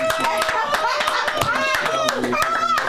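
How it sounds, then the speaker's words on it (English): An audience gives a lively round of applause for a young performer, steady close clapping throughout with voices and a voice mixed in. "give him a round of applause"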